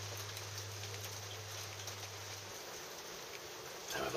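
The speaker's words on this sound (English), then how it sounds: "I don't think it's going to stop raining." Steady rain patters continuously on a surface, with a faint low hum in the first half and a slight rise in noise at the end.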